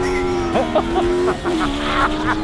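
A McLaren supercar drag races on a wet Top Gear test track, its engine a loud, continuous droning whine that shifts slightly in pitch, while excited voices call out over it.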